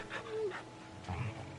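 A video game puppy whimpers while being petted, giving a short, thin whine followed by softer low grumbling noises, close and brief.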